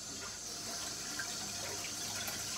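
Tap water runs in a steady, even rush while herbs are rinsed under it for a tajine, with no talking.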